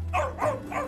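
Dog barking, three quick bark-like yelps in a rapid rhythm, close and loud, with no talk over them.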